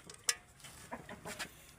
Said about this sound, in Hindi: तो मुर्गे असल मेरे लगे हुए हैं इस टाइम दाना खाने पे